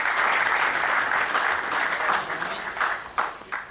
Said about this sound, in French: Avec vos applaudissements également.